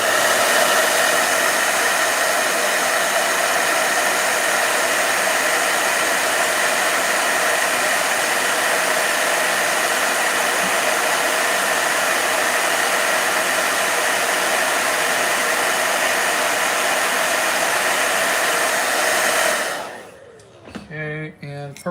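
Loud, steady whoosh of a blow dryer drying afro-textured hair, running continuously close up for about twenty seconds before switching off abruptly, leaving faint rustles.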